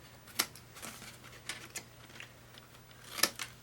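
Scissors snip a paper bag while mitering its corners, with a few sharp, quiet cuts spaced apart over a soft hum and no speech.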